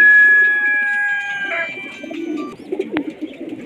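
Pigeons kept in a batch for sale in Multan coo in low, throaty repeated calls, with a steadier tonal sound early on and soft bird murmurs throughout, close by and without talk.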